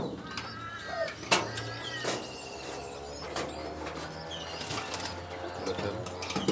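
Domestic pigeons kept indoors in a home loft, with soft cooing and occasional wing flaps close by, plus a sharp clatter and a low steady hum throughout.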